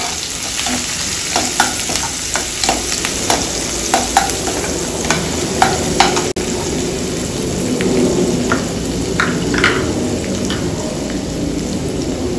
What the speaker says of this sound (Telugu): ఫ్రై అవుతుంది అన్నమాట.